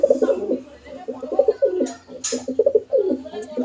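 A pair of pigeons, a male and female kept at home, coo close by in repeated throaty, rolling phrases, with no talk over them.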